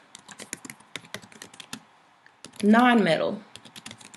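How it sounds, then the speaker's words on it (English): Rapid clicks of a computer keyboard being typed on, in quick bursts with a short pause, while a person speaks briefly over the keystrokes. "you're going to type most reactive"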